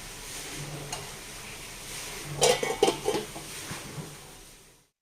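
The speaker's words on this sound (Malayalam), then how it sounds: "നല്ല പോലെ നമുക്ക് ഇളക്കി കൊടുക്കാം" A spoon scrapes and clatters against the pan while ivy gourd stir-fry (kovakka thoran) is stirred over a medium flame. Several quick metallic knocks come close together midway, over a soft background hiss.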